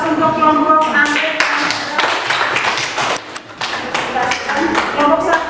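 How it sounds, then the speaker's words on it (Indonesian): Applause for a presenting group in a classroom: a burst of dense, overlapping hand claps fills the room, mixed with voices that carry on beneath the clapping. "Kita kasih aplaus untuk kelompok Andrek"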